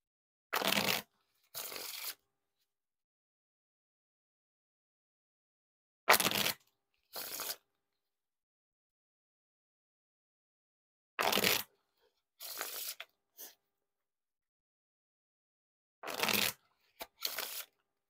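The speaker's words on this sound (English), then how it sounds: "Now time for the riffle shuffles, or bridge shuffle." Theory11 Purple Avengers playing cards are riffle shuffled in short crisp bursts, about two per round, separated by quiet pauses; close and fairly loud.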